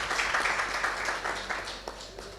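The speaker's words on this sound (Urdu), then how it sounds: "عشرت آپا کے لیے تالیاں ہونی چاہیے." Audience applause at a lifetime achievement award ceremony, a steady, fairly faint wash of many hands clapping together throughout, with no one speaking over it.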